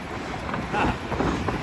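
Wind buffets the microphone in a steady, broadband rush with slight gusts, loud and close throughout.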